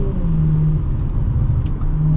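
A tuned 2018 Audi S4 with a 3.0T engine pulls hard uphill under sustained throttle, a loud, steady engine drone and road rumble filling the cabin without pause.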